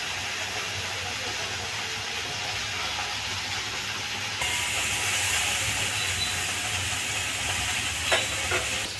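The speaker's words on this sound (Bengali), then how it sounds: "আমার ঢেঁড়স ভাজা হয়ে গেছে" Okra fries in a pan with a loud, continuous sizzle and hiss that rises a step in intensity partway through, with a few brief clinks near the end.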